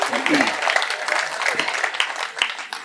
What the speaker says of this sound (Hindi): ताली बजाइए महिलाओं के लिए